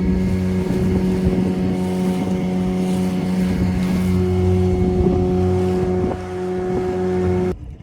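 Steady drone of a motorboat engine on a dolphin safari boat off Vengurla, idling near Sagareshwar beach, a continuous low hum with water and wind noise, no talk, ending abruptly.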